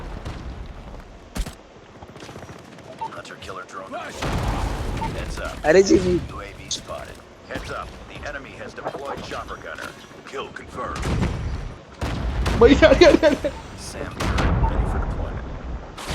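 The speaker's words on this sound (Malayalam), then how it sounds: "കുറെ വെടിയും പുകയല്ലാതെ ഒന്നും മനസ്സിലാവില്ല" Gunfire and explosions in the Call of Duty video game come as bursts of rapid shots and heavy booms, loud and close at times, with someone talking over much of it.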